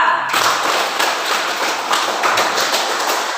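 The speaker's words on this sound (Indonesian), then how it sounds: "tepuk tangan juga untuk kelompok 2" Students in a classroom clap for a presenting group, a quick run of close, fairly loud hand claps starting abruptly and continuing steadily, with a few taps and thuds among them.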